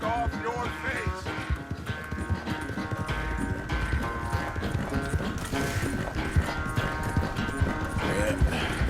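Horse hooves clip-clop at a steady trot in the video game Red Dead Redemption 2, rhythmic and fairly close under background music, with some spoken dialogue.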